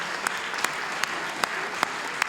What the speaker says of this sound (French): Bravo, on peut les applaudir, ils sont tous lauréats des régions.